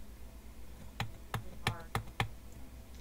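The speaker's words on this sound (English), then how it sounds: "I don't want to smack my freaking W key" Five distinct clacks of a single key being struck on a computer keyboard, evenly spaced about a third of a second apart, close and fairly crisp against a quiet background.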